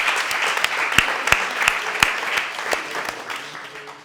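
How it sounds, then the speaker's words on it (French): A stage show audience applauds with a dense, steady patter of many hands, with individual sharp claps standing out near the front, sustained and fading slightly toward the end. "Vous pouvez vous applaudir."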